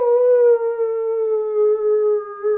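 A human voice imitates a wolf-like creature howling in the far distance: one long, sustained, tonal howl that sags slightly in pitch and wavers in loudness across a couple of seconds, heard alone.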